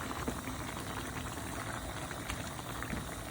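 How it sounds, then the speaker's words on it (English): Chicken curry bubbles steadily in a pot, a soft, even simmer with constant small pops and gurgles throughout and no talking. "That's bubbling away."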